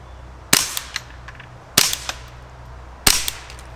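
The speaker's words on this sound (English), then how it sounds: "Here's a couple rounds suppressed through our Ruger 1022 with subsonic ammo" Three muffled, sharp cracks from a suppressed Ruger 10/22 rifle firing subsonic ammunition into grass, evenly spaced about a second apart, each followed by a brief mechanical rattle over quiet outdoor background.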